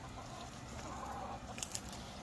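Chickens on an organic chestnut farm cluck faintly in the distance under steady outdoor background noise, with a couple of brief sharper calls near the end.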